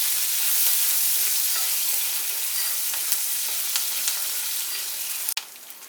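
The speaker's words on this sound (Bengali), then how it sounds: "এখন দিচ্ছি এর মধ্যে কুচানো পেঁয়াজ। পেঁয়াজটা একটু ফ্রাই করে নিচ্ছি।" Chopped onions frying in a pan with cumin for a Bengali soya chunk curry, a steady dense sizzle that stays loud throughout, with a few small crackles and a sharp clack near the end.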